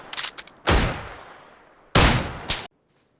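Gunfire in PUBG on the Miramar map: two sharp, loud bursts of shots with echoing decay, preceded by faint, rapid distant shots, with no talk.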